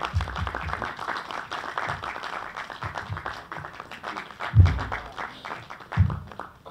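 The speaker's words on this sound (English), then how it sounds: "A round of applause, please." Audience applause at a documentary filmmaking masterclass, moderate clapping from a seated crowd, with a few louder low thumps standing out.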